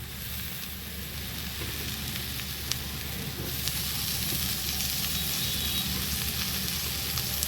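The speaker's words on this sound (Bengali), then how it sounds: "এরপর আমি টমেটো কুচি দেবো।" Chopped tomatoes frying in a pan for Bengali-style pea ghugni, a steady close sizzle that swells louder partway through, with occasional faint clicks and no speech.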